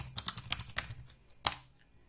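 Quick bursts of keystrokes on a computer keyboard, close and fairly quiet, in a couple of short clusters followed by a single sharper tap.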